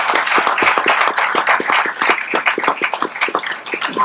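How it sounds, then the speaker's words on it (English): An audience at an antimicrobial stewardship workshop claps steadily for several seconds, a dense, close round of hand claps with no voices over it. "So please let's give her a big round of applause."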